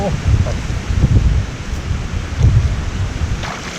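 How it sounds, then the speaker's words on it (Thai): Wind gusting across an open rural spot in northeastern Thailand during an outing to set fish traps, heard as a rough low roar that swells and fades in waves, close and fairly loud, with no talking. "น้องอาจจะได้ยินเสียงลมเลยครับพัดเอง"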